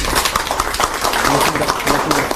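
An audience applauds Han Dong-hoon, the People Power Party emergency committee chair, at a parents' meeting in Gimhae. Dense, steady clapping fills the whole stretch at close range, with faint voices underneath.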